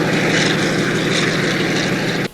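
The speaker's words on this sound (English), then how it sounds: "That's Trumbull taking the Sikorsky up" A Sikorsky helicopter lifts off with a loud, steady rotor and engine roar and a dense rhythmic beating. The sound holds strong throughout, then drops suddenly at the end.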